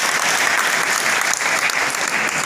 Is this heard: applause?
yes